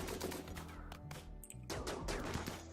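Colonists firing at insect hives in the video game RimWorld: rapid bursts of game gunfire with a short lull midway, plus chirping bird-like game sounds, with no talking.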